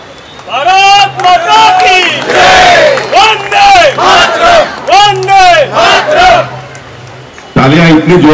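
A loud crowd at the inauguration of a sports ground cheers and chants in rhythmic, repeated bursts, with short pauses between rounds, close and filling the space.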